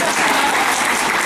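Audience applause at an academic workshop on sexual violence, a dense, steady burst of many hands clapping together throughout, fairly loud and close with no pause.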